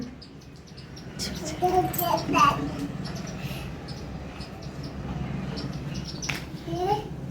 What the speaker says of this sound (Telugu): అవిగో బర్డ్స్, అవిగో సిద్ధు, అవిగో బర్డ్స్.